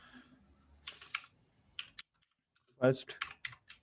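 Code is typed on a computer keyboard in irregular bursts of close, crisp keystrokes separated by short pauses, with a brief spoken word among them.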